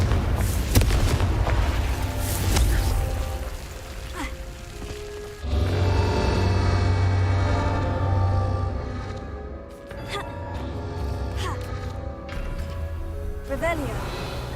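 Confringo fire-blast spells exploding in the video game Hogwarts Legacy: heavy booming blasts and rumbling crashes over a dense, continuous bed of game sound, with a voice speaking in places.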